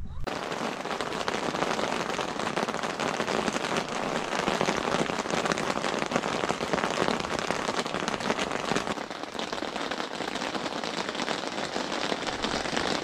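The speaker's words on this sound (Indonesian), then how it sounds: "Hujan." Steady rain drums on a camping tent in Germany, a dense unbroken patter that stays loud and close for the whole stretch with no pauses.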